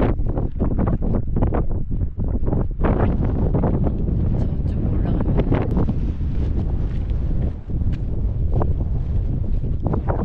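Strong wind blows by a lake in the Scottish Highlands, buffeting the microphone with loud, continuous roaring gusts for the whole stretch.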